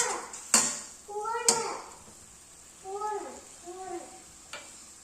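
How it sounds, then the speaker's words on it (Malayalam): A spoon stirs macaroni with soy sauce and spices in a pan, making a few sharp metallic clanks against the pan and soft scraping between them, while voices talk over it. "എന്നിട്ട് നന്നായിട്ടൊന്ന് ഇളക്കിക്കെടുക്കുക. അപ്പോൾ സോയാ സോസും ഈ മസാലകളൊക്കെ ചേർന്ന് നന്നായിട്ട് മിക്സ് ആവും."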